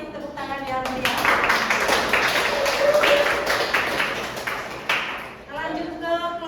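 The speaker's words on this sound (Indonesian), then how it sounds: "kita kasih tepuk tangan yang meriah" A classroom of students breaks into lively applause, a burst of dense clapping lasting several seconds between stretches of a teacher's speech.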